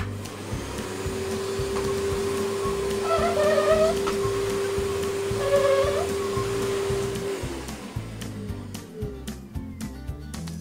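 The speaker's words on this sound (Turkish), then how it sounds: "Ve şimdi de süpürge." A toy vacuum cleaner in a Playmobil household play scene hums steadily for several seconds with a whiny motor tone that swells twice, then stops, followed by light clicks and handling noises of toy pieces.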